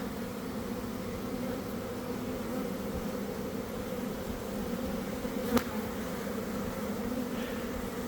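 A honey bee swarm hums in a dense, steady drone close by, continuous throughout with one sharp tap partway, no talking.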